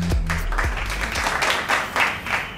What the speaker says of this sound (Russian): вялыми аплодисментами нашего героя Ивана